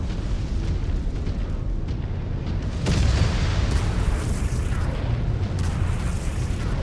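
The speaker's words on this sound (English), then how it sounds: "Artillery from above." Artillery explosions rumble in MechWarrior 5, a steady heavy roar with a louder booming blast near the middle and further crashing impacts after it.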